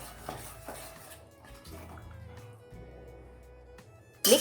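A spoon stirs spinach gravy in oil in a pan, making a few soft clinks and scrapes against the metal with gentle low sizzling between them, close by. A sharp louder clatter comes near the end.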